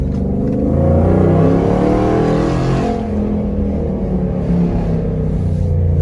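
A Jeep Commander engine fitted with a new intake manifold revs loudly and close, its pitch rising and falling in sweeping harmonics before settling into a lower, steady drone.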